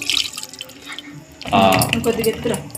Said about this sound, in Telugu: ఆ మొక్కలు ఇంకొంచెం మునిగిపోయే విధంగా వాటర్ పోసుకొని